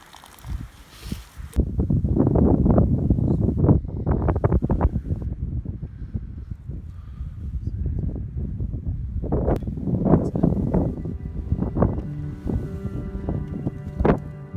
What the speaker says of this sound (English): It was quite windy at the summit